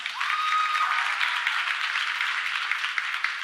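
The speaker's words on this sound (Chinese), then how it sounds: "鼓掌一下啊" A church congregation at an annual revival meeting claps together, producing a dense, even burst of applause that holds steady for several seconds, fairly close and without talk.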